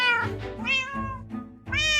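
A Minecraft cat meows several times in quick succession, clear and close, with short rising and falling calls separated by brief gaps.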